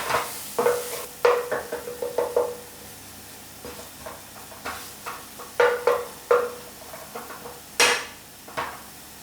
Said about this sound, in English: bloom them in the oil. It's the only way to actually bloom your spices. You've got to cook it out in the oil.